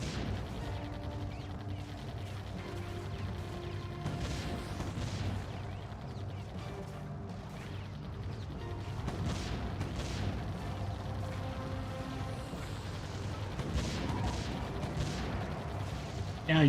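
Defense towers firing in the Defense Grid video game, a dense run of booming, crackling gunfire-like blasts and impacts that carry on without a break at a steady loudness.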